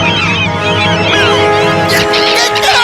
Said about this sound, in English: Those birds are mad at you.